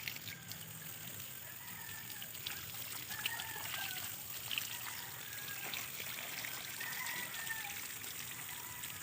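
Water trickles and splashes steadily in the background as a carabao is showered, faint and continuous, while roosters crow intermittently in the distance.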